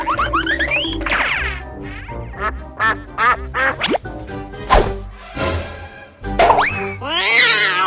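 Cartoonish duck quacks pop up repeatedly among a busy run of boings, plops and other comic sound effects, loud and close, with no talk.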